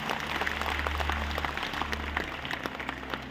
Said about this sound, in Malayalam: ഒരു കയ്യടി കൊടുക്കുന്ന സ്വാഗതം